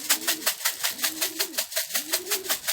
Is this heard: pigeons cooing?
yes